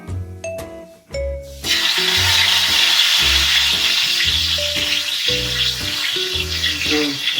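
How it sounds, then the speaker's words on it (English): Turkey pieces browning in olive oil, giving a steady, loud close sizzle and frying hiss that runs under light music throughout. "So we're just going to brown it off now in some olive oil."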